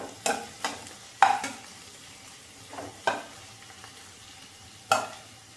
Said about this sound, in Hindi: चेक करते हैं प्याज हमारी फ्राई हुई कि नहीं। लग तो रहा है कि प्याज फ्राई हो गई।